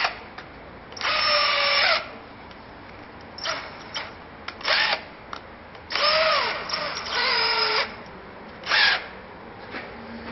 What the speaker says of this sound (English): I'm going to drill up through the handle to finish off the hole